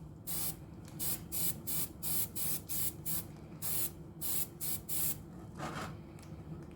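Short bursts of an aerosol spray can lay a light dust coat of paint on a model of the aircraft carrier HMS Queen Elizabeth, about a dozen quick hisses in an uneven rhythm, close and clear with no voices.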